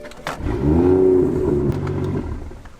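A BMW F30 engine cranks and catches, then revs up into a steady, loud, rising roar before settling back, close by with no talking.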